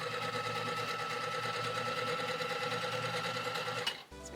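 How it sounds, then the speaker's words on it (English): A sewing machine runs steadily at speed through a crocheted piece, a continuous mechanical whir of rapid stitching, close and clear, stopping abruptly near the end. "I'm going to run this quickly through my sewing machine."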